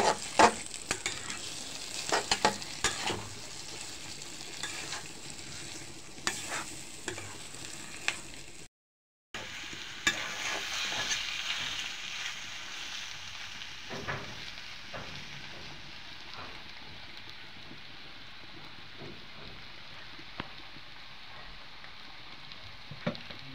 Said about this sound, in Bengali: এখন ভালো করে নেড়ে চেড়ে নেব